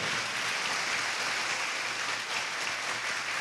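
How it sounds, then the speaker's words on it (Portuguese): A church congregation claps loudly and steadily during a worship service, a dense, even wash of applause from beginning to end. "Aplauda o Senhor, vamos lá. Bem forte."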